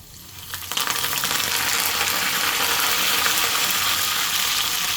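Dried red chillies, red onions and curry leaves fry in hot tempering oil for a Telangana garlic chilli powder, a steady loud sizzle that swells within the first second and holds dense and even throughout, with no talk.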